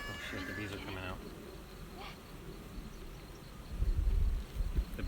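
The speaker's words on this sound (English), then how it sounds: "Shit, the bees are coming out." Honeybees buzz around an opened hive as they pour out, a diffuse droning hum with a louder low-pitched rush near the end, while a person talks early on.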